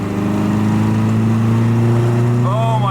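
Tuned MGB engine idling steadily with strong low rumble and harmonic drone, the note rising slightly as the throttle is pushed near the end; loud and close, with no talk.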